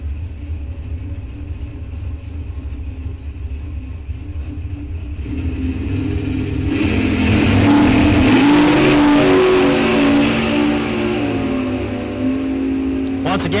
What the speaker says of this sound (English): you got the gorgeous looking 67 Malibu over on the Fast Freddy side here.